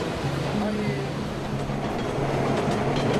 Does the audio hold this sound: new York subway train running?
yes